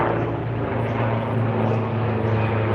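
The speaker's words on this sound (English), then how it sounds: "So where's the helicopter here?" A police helicopter flies over a Melbourne backyard, its rotor and engine giving a steady, moderately loud droning hum that holds throughout with no voices.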